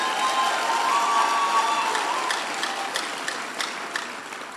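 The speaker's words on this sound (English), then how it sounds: "Clap for yourselves." A crowd of young Nigerians at an election-related gathering claps, a dense patter of applause that starts full and gradually thins and fades over a few seconds.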